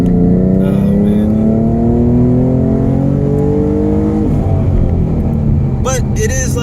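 A V6 Ford Mustang with a Borla S-type exhaust accelerates hard, its loud engine note climbing steadily through the rpm, then a gear change drops the pitch before it climbs again.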